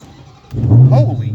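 A car engine cranks and fires up on an Arc-Angel battery in place of a stock lead acid one, a soft idle swelling into a quick, loud catch and rumble with a faint voice over it.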